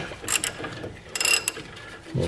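A ratchet with an 18 mm socket tightens front brake bolts on a Jeep Patriot, giving two close bursts of rapid clicking separated by a short pause, with no talk over it.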